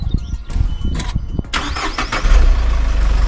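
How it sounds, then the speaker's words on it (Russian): A GAZelle NN van engine cranks with a short whirring starter before catching and settling into a steady, close low idle. "Выжимаем сцеплуху, нажимаем на кнопку старт."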